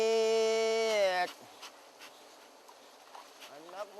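Forest honey bees at Danau Sentarum National Park buzzing close by, a loud steady drone that breaks off after about a second, then scattered faint buzzes and rustling before the hum rises again.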